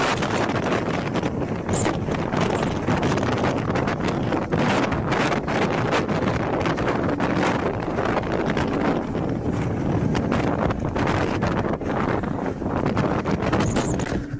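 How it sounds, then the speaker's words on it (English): Strong wind tears a tarp off a truck: a loud, unbroken roar buffets the microphone, with deep rumbling and rough flapping throughout and no voices. "Strong winds rip the tarp off of a truck."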